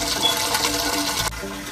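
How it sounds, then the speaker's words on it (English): Water from a salt water mixing tank pours down an open drain valve, a steady broadband rush of running liquid that drops slightly in level near the end. "my drain valve is open, and the water starts going down the drain"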